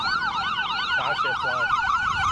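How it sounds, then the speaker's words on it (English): An ambulance siren wails along a city street, its rising and falling electronic tone cycling steadily and loudly throughout, with faint traffic underneath. "always on this street, gonna be an ambulance"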